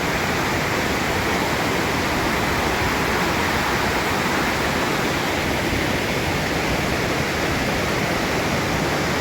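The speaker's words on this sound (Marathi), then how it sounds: "आणि इकडे एक वॉटरफॉल आहे." Waterfall at the Dhutpapeshwar temple in Rajapur, a dense, unbroken roar of falling water, loud and close, with no other sounds.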